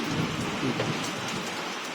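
Steady heavy rainfall roars on trees beside a house in Lam Ta Sao, Wang Noi, Thailand, in a dense wash of noise, with a low rumble underneath and no voices.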